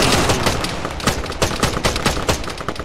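A Hunter-mounted heavy machine gun firing in the military shooter Arma 3: loud, rapid bursts of repeated shots in an uneven rhythm, each crack sharp against a noisy battlefield background.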